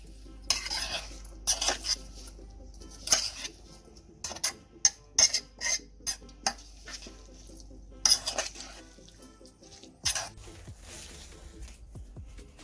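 Spoon clinking and scraping against a bowl while tuna pie filling is mixed, in a series of sharp, irregular taps and scrapes over quiet background.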